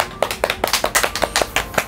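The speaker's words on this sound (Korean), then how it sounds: "박수." Hands clapping inside a small Korean gimbap and ramen snack shop: about ten quick, sharp claps in a steady rhythm, close and clear, with no talking over them.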